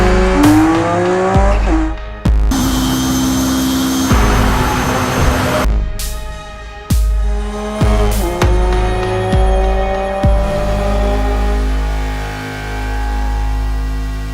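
Race cars in an endurance racing video game roar past loudly, with engine notes rising and falling through gear shifts and sharp cuts between passes, with no talk.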